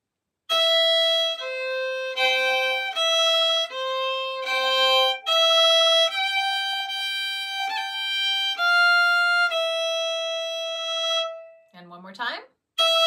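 Second phrase of the Scottish jig The Sailor's Wife played on a solo melodic instrument, a run of clear sustained notes with bright overtones and a quick trill, ending in a short scraping sound.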